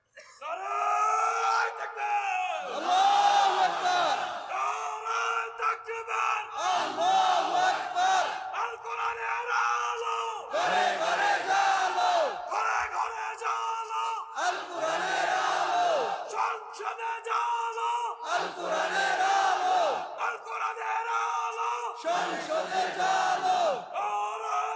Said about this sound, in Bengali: এটা হলো আসল স্লোগান।